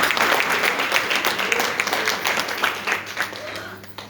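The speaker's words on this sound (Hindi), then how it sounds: "एक बार और जोरदार ताली" An audience at a talk gives a hearty round of clapping, a dense patter of many hands rising and falling in waves, with some chatter mixed underneath.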